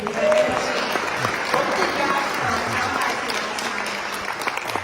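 Audience applause for a retiring Hillsborough County public defender at a live morning talk event, steady clapping filling the whole stretch with crowd murmur and speech underneath.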